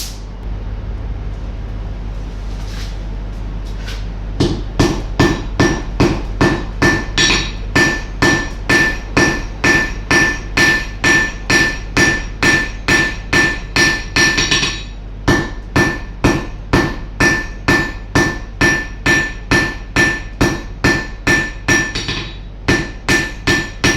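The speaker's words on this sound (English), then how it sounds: "put it back in the fire, weld it again" A hammer forge-welds a steel snail, landing a long run of loud, evenly spaced blows on hot metal at close range, a brief pause partway through, with no talking.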